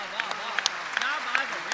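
Audience at a Hindi-Urdu poetry recital breaking into brisk scattered clapping, sharp individual claps over a murmuring crowd, with voices calling out in praise over the applause.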